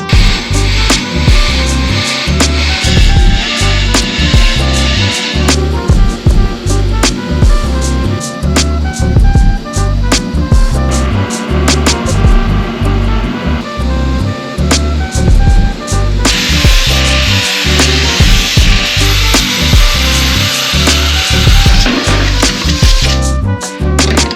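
A power tool cuts loudly through the steel floor of a car, harsh rhythmic grinding and sawing bursts close up, pausing and restarting, with a brighter hissing stretch toward the end.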